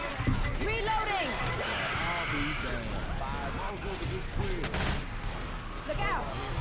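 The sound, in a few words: gunfire in Left 4 Dead 2 video game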